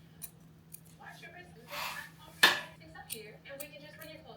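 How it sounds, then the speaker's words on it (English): Scissors snip through leopard-print faux fur fabric up close, with a few soft crunching cuts and one sharper clip, over a low steady hum and light handling noise. "The first thing we need to do is cut our fur."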